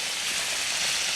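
Pork chops brown in a hot skillet, giving off a steady, soft, hissing sizzle that stays even throughout.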